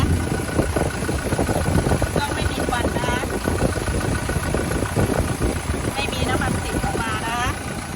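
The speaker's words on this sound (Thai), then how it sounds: "แต่เขาแต่งฝาท่อมาให้ ถึงเสียงดังนิดนึงนะคะ" A 2016 Toyota Revo pickup's 2.4-litre diesel engine idles through a modified exhaust with a deep, loud rumble, running steadily throughout while a voice talks over it.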